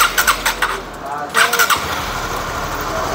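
A Honda New CB150 motorcycle engine with poor oil flow after faulty repair work starts up close by in a workshop, with quick pulsing cranking bursts before it settles into a steady running drone.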